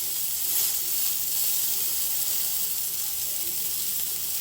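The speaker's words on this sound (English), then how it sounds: "cast iron pan will retain the heat. So now we're just going to add our burger in here." Burger patty searing in a hot cast iron pan, a bright steady sizzle that holds evenly throughout with no voices.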